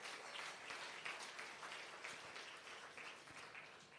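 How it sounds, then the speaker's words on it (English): An audience at an awards ceremony applauds: a fairly faint, sustained patter of many hands clapping together, steady throughout with no voices on top. "perhaps a round of applause to South Africa's women in science and elsewhere"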